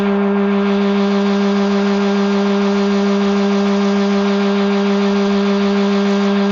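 A Bluewing line winder machine spools fishing line at about 400 RPM, giving a steady, continuous mechanical hum with a constant pitch that runs alone and unchanged throughout.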